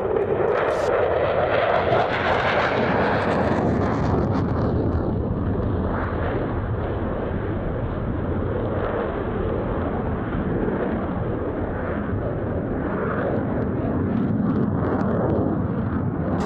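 A Belgian Air Component F-16 fighter jet from 10 Wing flies a display at the RIAT airshow, its engine a loud, continuous roar that sweeps past and then holds as a heavy, rumbling wash.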